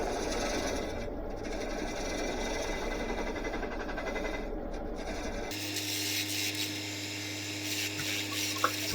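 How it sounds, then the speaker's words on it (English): A detail carbide cutter scraping the tenon of a natural-edge birch bowl turning on a lathe, as a soft continuous rasping over low motor hum, shifting to a steadier, tonal whir partway through. "I'm just using the detail carbide cutter now just to help remove the nub off the end and clean up the bottom of the tenon"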